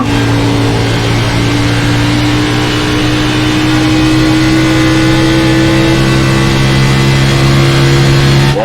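Race cars circle the track after the pace car pulls off, a loud, continuous engine drone with steady low tones rising gradually in pitch as the pack accelerates.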